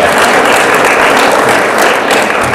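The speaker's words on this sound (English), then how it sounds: "I feel like we could handle a quick round of applause in between each one while the photos are up." Audience applause at a 2013 governor's sustainability awards ceremony, a steady, dense wash of clapping that stays loud and even throughout, with no talk over it.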